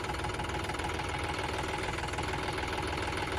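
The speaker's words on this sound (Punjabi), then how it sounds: "ਟੈਸਟ ਕਰਕੇ ਫਿਰ ਝੋਨੇ 'ਚ ਬਾੜਾਂਗੇ ਟਰੈਕਟਰ ਨੂੰ ਜੇ ਸਹੀ ਚੱਲਿਆ" A tractor engine runs steadily while it is being tested before going into a paddy field. It gives off a constant, close idling drone with a faint knocking rhythm and no talk over it.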